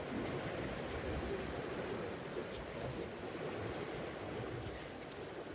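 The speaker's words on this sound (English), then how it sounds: "Water's coming in around my feet." Sea waves wash and churn around rocks on an Anglesey shore in North Wales, a continuous close rushing surge with wind noise across the microphone.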